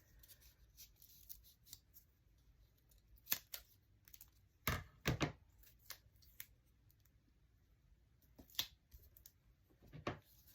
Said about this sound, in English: Just cut a few strips off.